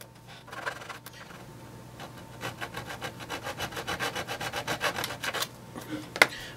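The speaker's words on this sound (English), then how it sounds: "What I'm doing now is I'm just roughing up the surface at the top here, just so the epoxy has a bit more something to stick to." A hand abrasive rubs rapidly back and forth over a surface to rough it up for epoxy, the rasping strokes growing louder and more rhythmic toward the end, with no talk.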